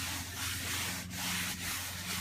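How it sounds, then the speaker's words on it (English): Dry cloth rubbing over a BMW car interior, a close, soft continuous swishing with a few brief pauses between strokes and no voices. "let me get that dry cloth and rub off the rest"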